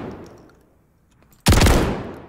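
Rapid automatic gunfire hitting a dummy at a firing range in Warzone 3.0, a loud, close burst that starts suddenly after a fading echo and near-silence, with dense overlapping shots.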